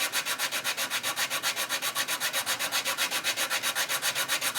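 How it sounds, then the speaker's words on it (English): Rough sanding stick rubbed back and forth along a 1/350 scale plastic USS Missouri BB-63 model hull, smoothing glued seams; steady rhythmic rasping strokes, about six per second, close and alone. "again use a rough side of my sanding stick"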